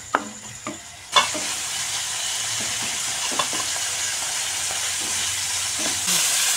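Spice masala fries in a pan for a rui fish and sweet pumpkin curry, with a continuous sizzle and scattered scraping, clacking stirs, loud and close, and almost no talk.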